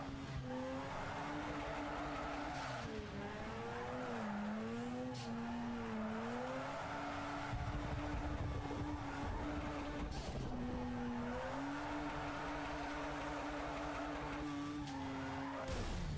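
A rotary-engined car in the racing game Need for Speed Underground 2 revs hard, its buzzing engine tone climbing and dipping through gear changes, mixed with tire squeal and skidding noise throughout.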